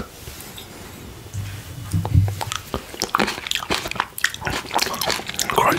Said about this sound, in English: I'm eating black grapes, black sable.